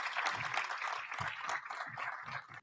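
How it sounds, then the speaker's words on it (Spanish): Brief burst of audience clapping at a naval engineering conference, a close, fairly dense patter of claps lasting a couple of seconds before stopping abruptly. "Eric Iván, Leonardo Javier, bienvenidos, con este aplauso de agradecimiento y de estímulo también para este desafío que arrancamos"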